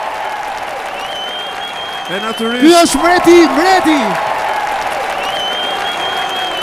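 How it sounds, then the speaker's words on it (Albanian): Applause from a concert audience at the show swells over a sustained musical tone and a singing voice, rising to a loud peak midway before settling into a steady crowd wash while someone speaks. "Dua një duartrokitje zemre të fortë."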